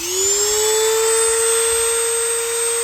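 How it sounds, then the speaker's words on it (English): High steady whine of a Dremel rotary tool sharpening chainsaw teeth, one loud continuous grinding note held close throughout. "so you didn't have to sit there and listen to me sharpen all the teeth on one side"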